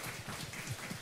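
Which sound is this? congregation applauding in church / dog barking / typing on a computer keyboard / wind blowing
congregation applauding in church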